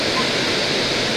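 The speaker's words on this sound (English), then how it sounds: "Look at all this water coming down." The waterfall at Glen Falls Park in Williamsville, New York roars steadily, a dense, loud broadband rush of falling water close by.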